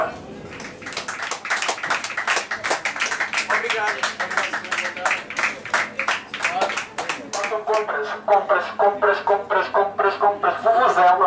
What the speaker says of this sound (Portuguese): Vamos aplaudir como aplaudimos agora